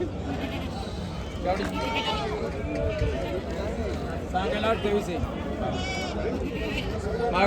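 Goats bleat repeatedly at a busy goat and sheep market in Chakan, Maharashtra, their wavering cries rising over the steady chatter of traders and a crowd talking close by.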